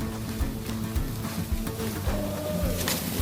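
Philly steak meat frying in a hot pan, a steady loud sizzle with scraping and stirring knocks at a loose rhythm, close up and without talk.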